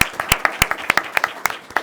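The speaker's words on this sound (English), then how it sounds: "I would like us to give a round of applause to our panelists." An audience at a World Refugee Day event applauds the panelists with a short burst of scattered, moderately loud clapping.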